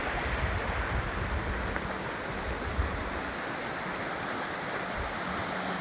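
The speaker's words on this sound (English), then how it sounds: "This is the water off Panguitch Lake that flows through the campground." Creek water running off Panguitch Lake through a campground flows in a steady, soft, even rush of broadband noise with no voices, heard up close at low level.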